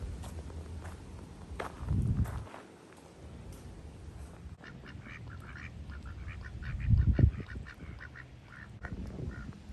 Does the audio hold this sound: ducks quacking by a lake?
yes